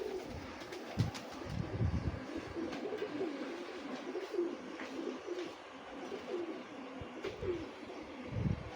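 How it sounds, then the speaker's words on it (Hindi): Bandum (dub) breed pigeons coo in repeated low, throaty bursts with a few brief chirps mixed in, fairly close and steady with no talking. "बंदुम का कबूतर है"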